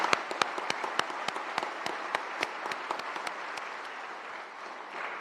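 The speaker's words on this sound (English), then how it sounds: "So I just want to acknowledge you again and give you a round of applause." Audience applause at a police recruit class graduation in Columbus, a dense, steady wash of clapping with sharp individual claps standing out, fairly loud and continuing throughout without speech.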